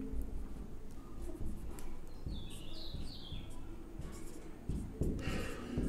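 Marker or chalk writing on a board during a chemistry lesson, a series of faint scratchy strokes and taps at close range, with light bird chirps in the background.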